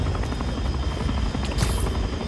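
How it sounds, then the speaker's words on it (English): Gunship helicopter attacking during PS5 Spider-Man 2 gameplay, a steady close rotor chop and engine drone throughout, with a brief sharp burst near the middle. "This gunship won't quit."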